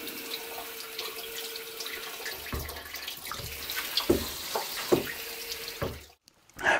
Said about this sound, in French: j'avais remis en eau quand même, hein, bien sûr. Donc là, on a de l'eau froide